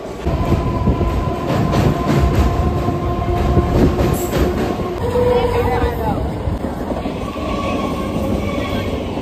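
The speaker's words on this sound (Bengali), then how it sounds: "আমাদের ট্রেন কিন্তু এগিয়ে যাচ্ছে একটার পর একটা স্টেশন।" A passenger train runs between stations with a constant loud rumble and rhythmic clickety-clack of the carriages, a murmur of people talking inside, and a brief high squeal partway through.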